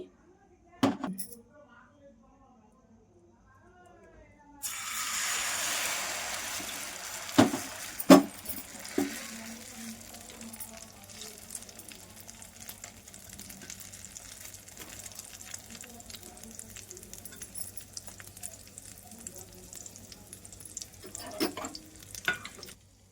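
An omelette mixture of egg with onion, tomato and green chilli frying in oil in a pan, a steady close sizzle that starts abruptly after a few clicks, with occasional scraping knocks.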